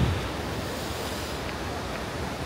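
A mountain stream in Yosemite National Park flows steadily, its broad, even rush of water holding at a constant level throughout with no voices.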